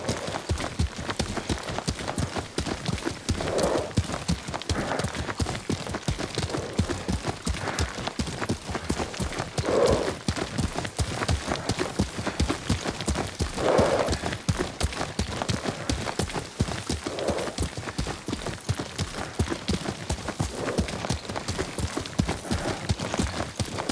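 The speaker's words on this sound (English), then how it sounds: "Lord Sakai taught me to ride a horse." Rapid, rhythmic hoofbeats of a galloping horse in a video game set in feudal Japan carry on steadily for the whole stretch, with faint breathy snorts here and there and no talking.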